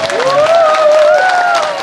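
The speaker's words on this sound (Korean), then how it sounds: "여러분 뜨거운 박수로 맞이해주시기 바랍니다" Audience applause welcoming a guest at a panel discussion in a concert hall, a loud steady burst of clapping from a large crowd throughout, with a tonal sound drifting over it.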